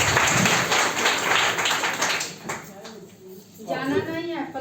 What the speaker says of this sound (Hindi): अच्छे के बाद जोरदार ताली